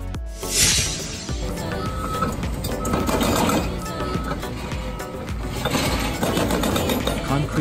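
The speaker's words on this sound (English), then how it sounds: "Concrete breaking excavator." Rapid, steady pounding of a hydraulic breaker chipping concrete, with heavy engine rumble and clattering debris throughout.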